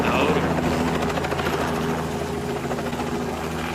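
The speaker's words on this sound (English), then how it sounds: "I got a helicopter ride out of this." A helicopter flying overhead carrying a zebra, a loud continuous rotor thump and engine roar that eases slightly toward the end.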